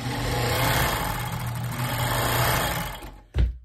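A Bonis fur sewing machine runs in a steady, fast mechanical whir for about three seconds, close and loud, then stops abruptly and ends with a single heavy clunk.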